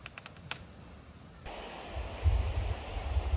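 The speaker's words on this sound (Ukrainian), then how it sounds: "І так чуєте море шумить." Black Sea surf washes onto a beach at a resort in Odesa region in July, a soft, steady rush that grows fuller after a few faint clicks and crackles of wind on the microphone.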